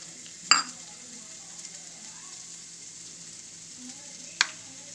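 Butter corn with onion and coriander in a pan gives a soft, even sizzling hiss. Two sharp utensil clinks break it, one near the start and one near the end.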